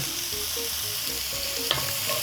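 A mirepoix of carrot, onion and celery sweating in a pan gives a steady, close sizzle with a brief clink near the end, while low tonal background music plays underneath.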